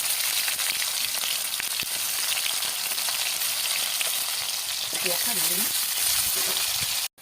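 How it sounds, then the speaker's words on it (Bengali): Onions and cumin seeds frying in hot oil give a steady, bright sizzle throughout, with a few louder spits and crackles near the end before it cuts off. "এবার তেল দিচ্ছি, তেল গরম হয়ে গেছে, এবার জিরে দিচ্ছি। এবার দেবো পেঁয়াজ"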